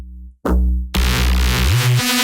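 Synth bass with an erosion effect adding a layer of noise, from an EP track; loud, dense low notes that shift pitch in steps, with gritty noise spread above, after a brief silent gap.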